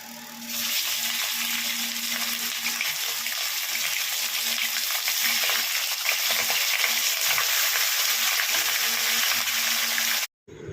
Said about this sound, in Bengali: এবার আমি চিকেনটা বসাবো স্মোকি চিকেন বা পোড়া মশলায় চিকেন